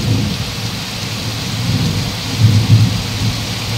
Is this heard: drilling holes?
no